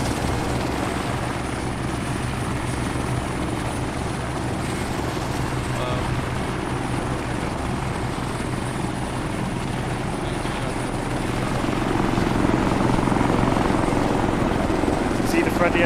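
A helicopter in the video game Arma 3 drones loudly and steadily with continuous rotor thrum, holding close and constant for the whole stretch, with people talking over it.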